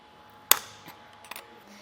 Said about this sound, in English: So tighten that down on both sides until your tool clicks.